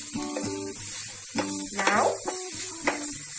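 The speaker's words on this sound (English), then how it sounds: "Mix well and saute for some time." Grated carrot and onion sizzle in a hot pan for bottle gourd uthappam, with soft stirring scrapes and clinks over a steady frying hiss, and a voice speaks briefly.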